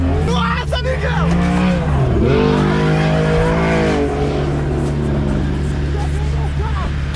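A Chevette drifts with loud, sustained tire squeal over a roaring, revving engine heard up close, while voices shout over the noise throughout.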